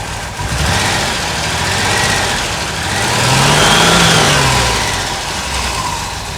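A Ford Sierra Mk1 estate's 2.8i engine idles steadily while warming up off the choke, with a slight misfire, a loud and close, continuous running note that swells briefly midway.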